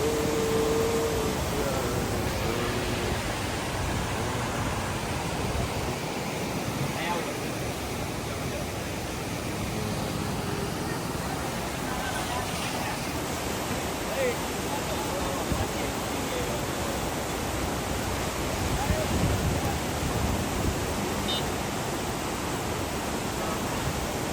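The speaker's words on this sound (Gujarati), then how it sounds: "વાતાવરણમાં આ પુલ ઉપરથી પાણી જતું હોય તો મોરબીની શું હાલત થાય" Flooded Machchhu river water pouring over a bridge near Morbi, a constant loud roaring rush with no gaps, broad and even throughout.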